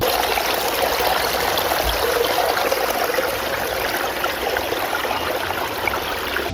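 A spring stream babbles loudly as it runs down through a small village in Germany, a steady, close rush of trickling water throughout with no voices.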